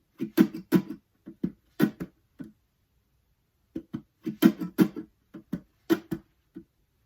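An acoustic guitar percussion pattern of muted strums and body slaps, including left-hand slaps, repeated twice as a steady rhythmic loop of sharp close knocks with a short gap between the passes, no talking.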